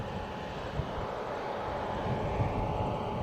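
An incoming Air New Zealand airliner, flight NZ535 from Auckland, rumbles as a steady distant roar of jet engines, broad and low with faint wind on the microphone and no voices.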